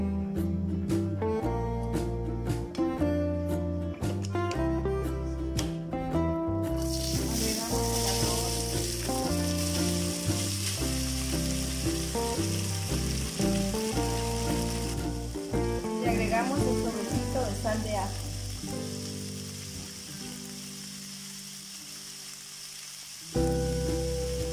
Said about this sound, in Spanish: Calentamos un sartén y le vamos a agregar aceite.